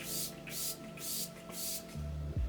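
NYX Face Glue setting spray hisses in four short misting bursts, close and fairly loud, each about a quarter second long with brief gaps between them.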